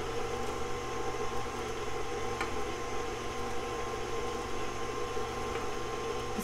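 An electric mixer beats pumpkin spice cupcake batter, giving a steady, fairly loud motor whir that holds unchanged throughout with no voices.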